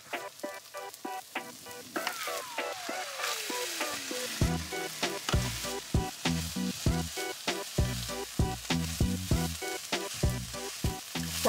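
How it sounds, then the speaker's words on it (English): Meat, corn and frozen peas fry in a pan with toasted tomato paste, a dense continuous sizzle under repeated rhythmic clacks of a utensil stirring, with a falling tone sweeping down early on and no talk. "Let's add our meat back in. Along with our corn and our frozen peas."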